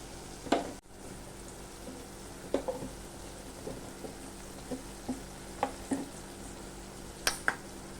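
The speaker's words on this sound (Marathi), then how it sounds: "आता हे आपण व्यवस्थित परतून घेऊया" Tomatoes stir-fried with turmeric, red chili powder and garam masala give a soft, steady sizzle, broken by a dozen or so sharp spatula scrapes and taps against the pan.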